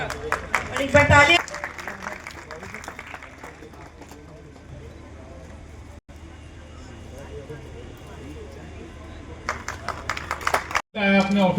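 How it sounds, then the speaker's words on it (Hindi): Audience applause in a hall erupts loudly at the start, gives way to a long stretch of talk and crowd murmur, then swells again with bursts of clapping near the end. "और एक बार ताली"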